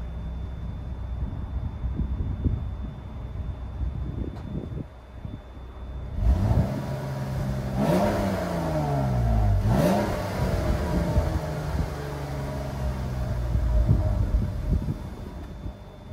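A 2015 Jeep Cherokee Limited engine revs up sharply several times, its exhaust note climbing and falling in swells over a steady idle, loud and close with some wind buffeting.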